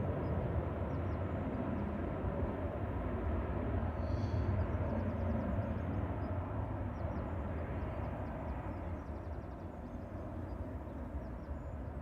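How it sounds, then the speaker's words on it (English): Ryanair jet departing a runway at Manchester Airport, a steady distant engine roar that holds for the whole stretch and fades only slightly, with no talk. "the Ryanair that's just departed to Dublin"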